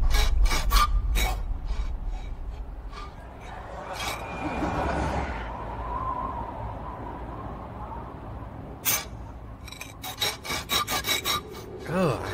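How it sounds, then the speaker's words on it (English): Harsh rasping scrapes, like something dragged across the ground or a bench outdoors at night, come in repeated bursts with a longer grinding stretch in the middle. "Oh, I hate that scraping sound."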